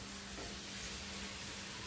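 An egg frying in a pan gives off a steady, even sizzle with a constant hiss, close and unbroken for the whole moment, no talking.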